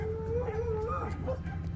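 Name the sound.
dogs barking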